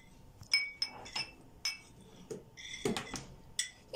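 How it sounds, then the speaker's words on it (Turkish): Spoon clinking against a glass or ceramic dish while black pepper is stirred in, several sharp bright taps scattered irregularly, close and fairly loud, with faint handling noise between strikes. "bunu birazcık karıştırıyoruz ki karabiberimiz erisin iyice dağılsın."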